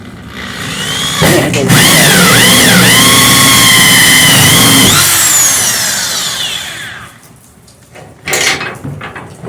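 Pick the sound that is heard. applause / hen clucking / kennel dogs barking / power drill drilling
power drill drilling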